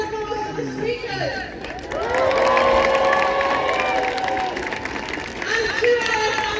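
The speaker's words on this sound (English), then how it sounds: "can I ask you to give a huge round of applause for the speakers?" A crowd at a pro-Palestinian street protest in Leeds claps and cheers for the speakers, swelling into a loud burst under a voice talking over a PA system.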